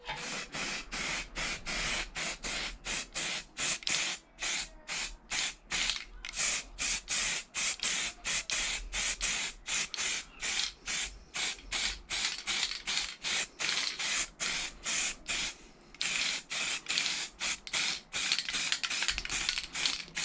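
Aerosol spray can laying a primer coat onto a car wiper arm from an R32/R33 Nissan Skyline, heard as a long series of short hissing bursts in quick rhythm, close and steady, with brief pauses between sprays.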